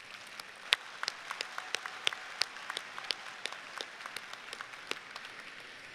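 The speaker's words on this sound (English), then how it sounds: "Please give them a round of applause as well." Sustained applause from a large commencement crowd honoring graduating Auburn University science and mathematics students with honors, dense steady clapping with a few sharp near claps standing out, continuing throughout without talk.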